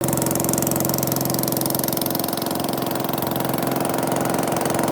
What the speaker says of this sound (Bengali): তো ঝটপট চলো নৌকাতে উঠে পড়ি